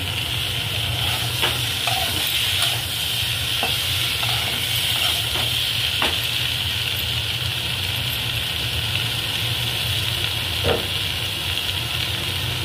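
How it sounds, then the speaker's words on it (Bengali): Spice paste frying in oil makes a steady, close sizzle and hiss with faint stirring scrapes now and then, continuing at an even level throughout with no talking. "বন্ধুরা, এটা ভাজা ভাজা করা হচ্ছে, আবার একটু পরে দেখুন।"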